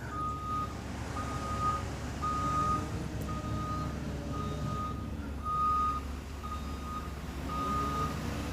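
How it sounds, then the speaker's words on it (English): A truck backing up gives off a regular series of single reversing beeps, evenly spaced and fairly faint, over a low rumbling engine and outdoor background noise. "It's truck."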